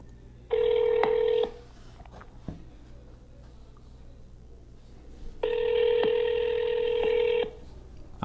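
Two long steady telephone tones sound while a number is dialed to a senator's Washington, D.C. office, each tone lasting about a second, separated by a quiet pause with a faint click, heard fairly close over low background hum.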